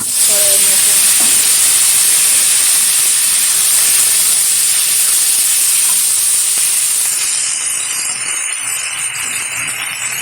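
Broccoli florets and long potato pieces dropped into hot oil for a Bengali fish curry, a loud, close, continuous hissing sizzle that gradually settles and softens near the end.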